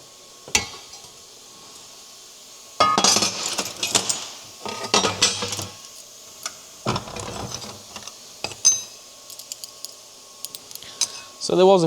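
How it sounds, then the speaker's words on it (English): A laser-cut metal piece is snapped free from its sheet, giving several sharp metallic clinks and rattling scrapes in bursts, close and fairly loud, with short pauses between. "So let's break that off and have a look at the cut quality."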